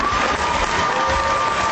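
An audience in a hall gives an ovation to Irakli Alasania at a party presentation, sustained dense clapping and crowd noise throughout.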